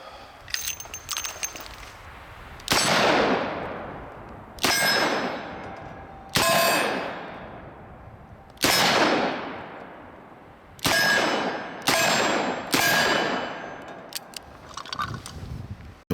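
A revolver fires .357 Magnum rounds in seven sharp, loud reports spaced a second or two apart, each ringing out with a long metallic decay, followed by faint clinks.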